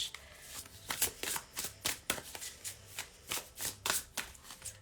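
Oracle cards being shuffled in quick riffling bursts, a rapid series of crisp papery flutters close up, with no talking.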